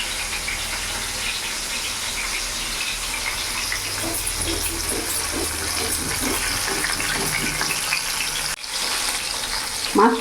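Hilsa fish pieces fry in hot oil in a pan, making a continuous loud sizzle and crackle close by for about ten seconds, with faint stirring scrapes and a brief break near the end.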